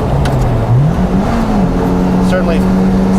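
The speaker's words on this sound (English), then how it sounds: "it just sounds unbelievable as you rev it up" A Lotus Elise or Exige sports car engine revs up with a rising, throaty pitch that climbs and then holds steady, loud and close, with a voice talking underneath.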